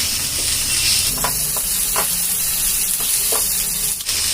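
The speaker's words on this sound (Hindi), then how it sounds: "अब इसे हम कुछ सेकंड्स के लिए भून लेंगे।" Finely chopped ginger and green chilli sauté in hot oil in a pan, giving a steady loud sizzle with a few soft scraping stirs of a spoon.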